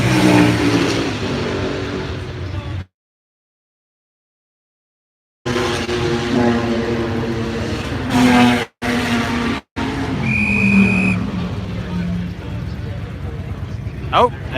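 Classic race car at the Goodwood Revival revving hard nearby, engine roar rising and falling with a brief tire squeal, broken by abrupt dropouts into silence and mixed with commentary-like talk.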